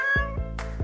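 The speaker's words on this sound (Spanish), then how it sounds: "¿Qué es ese sonido? ¡Es un gato en un árbol!" A cat meowing from up in a tree, heard as a quick run of three or four short, clear meows, close and fairly loud with no voices over them.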